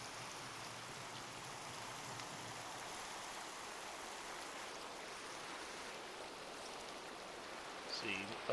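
Steady rain falls in Minecraft with the Primal Magick mod, a soft, continuous hiss of drops that holds evenly throughout with no talking, and a small bump in level near the very end.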